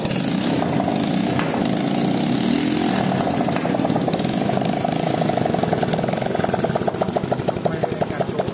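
A homemade ATV's engine revs loudly and continuously close by, a rough, buzzing motor that holds steady and then settles into a rapid, pulsing idle rhythm.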